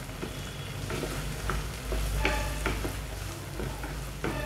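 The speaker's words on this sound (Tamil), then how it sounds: "இப்போ மிளகாய்த்தூளை எண்ணெயில் வந்து வதக்கிடுறேன்." Chili powder sautéed in hot oil for a fish and mango kulambu, stirred in a pan: a steady, close sizzle with intermittent spatula scrapes and knocks throughout.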